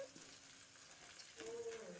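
Rice frying in a pan for chicken pulao, alongside cashews, raisins, cloves and cardamom, gives a soft, close sizzle and light stirring hiss, quiet and steady for a couple of seconds.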